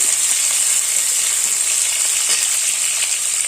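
Healthy evening snacks frying in a small amount of oil, giving a steady, close bright sizzle with soft crackles throughout and no talking.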